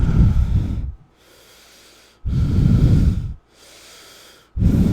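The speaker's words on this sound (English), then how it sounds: "I don't know if you hear me breathing into the mic" Nervous breathing close into a microphone, three heavy, rough breaths in a slow regular rhythm with short silent gaps between them, loud and alone.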